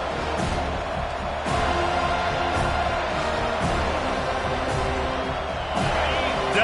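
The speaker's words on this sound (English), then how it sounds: "Decibels rising as the crowd gets behind this defense on 3rd down." A college football stadium crowd roars steadily during a UNC game on third down, a dense continuous wall of noise that swells slightly, with a commentator's voice over it.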